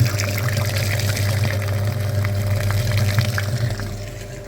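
A flushing pump runs continuously, pushing liquid through a car heater radiator in a workshop, a steady low mechanical hum with constant watery trickling and gurgling throughout, easing slightly toward the end.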